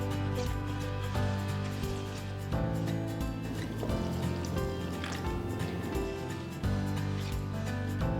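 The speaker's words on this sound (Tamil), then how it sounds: "அடுத்து கொஞ்சம் கொஞ்சமாக தண்ணி ஊற்றி நல்ல சாஃப்டாக ஸ்மூத்தாக மாவை பிசைஞ்சுக்கோங்க" Water trickles in small amounts into pea puri dough during kneading, a soft, close pouring and squelching texture under steady background music, most noticeable through the middle of the stretch.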